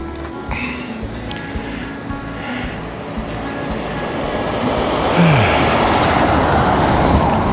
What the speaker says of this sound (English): that's the main road where that car went towards Sofala